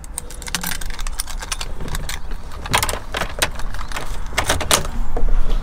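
Original-equipment Mitsubishi car keys jangle close to the mic in repeated bright metallic clinks and shakes, steady throughout with no talking.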